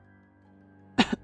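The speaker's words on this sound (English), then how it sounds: "he hesitated, coughed, and continued" A game character coughs twice in quick succession, a close, sharp burst followed by a smaller second hack, over a quiet sustained musical drone in the indie murder mystery Bildungsroman: Murders in the Sanatorium.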